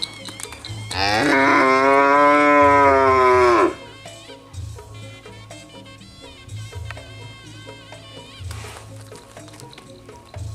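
A village cow in Desa Terak gives one long, loud, close moo lasting about three seconds, then quieter shuffling farmyard sounds continue.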